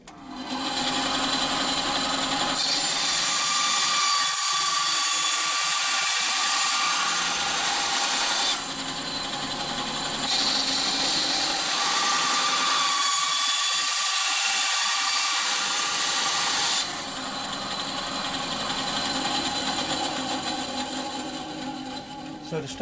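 Slices come off a 15 mm female-to-female plastic pipe coupling, with loud, continuous gritty sawing close by, broken by two brief pauses over roughly twenty seconds.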